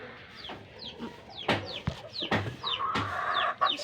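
A black chicken clucks and calls repeatedly at close range, with short rising notes and some rustling around it. No one speaks.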